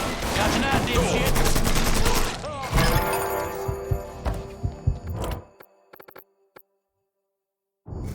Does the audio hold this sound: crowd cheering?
no